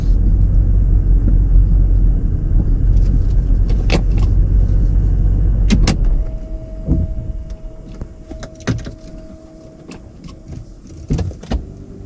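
A Porsche Panamera creeps along with no accelerator input, giving a steady low engine rumble that drops to a quieter idle halfway through, with a few short clicks and knocks near the car.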